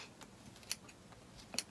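Small scissors snipping through wool wrapped on a pom-pom maker, two sharp close cuts about a second apart, each a brief crisp snip over a quiet background.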